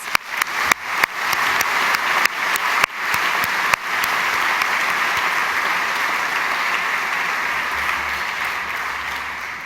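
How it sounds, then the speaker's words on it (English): An audience in a ceremonial hall applauds the performers, beginning with a few sharp separate claps that quickly merge into loud, sustained, even applause. "please do join me in giving a round of applause to the performers."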